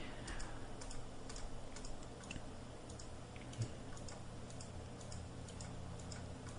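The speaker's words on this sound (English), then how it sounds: "Let's keep clicking until we find something we like." Mouse clicks during Photoshop editing, a quiet, sparse series of sharp ticks at uneven intervals over a steady hum of room or computer noise.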